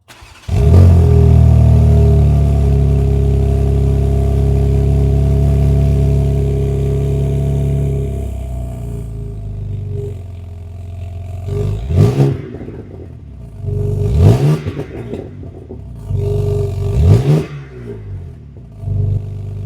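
A 735 hp BMW M4 with a full titanium exhaust idles with a deep steady rumble, then revs sharply three times, each rasping exhaust roar rising and dropping back.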